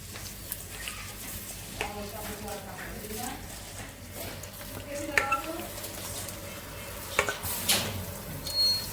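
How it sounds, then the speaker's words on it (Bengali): Rice stirred and fried with spices in a pot for pulao, with scraping and clinking of a utensil against the pan over a low sizzle, continuing steadily under intermittent background voices. "মশলা ভাজা হয়ে গেছে আমি চাউলটা দিয়ে দিচ্ছি"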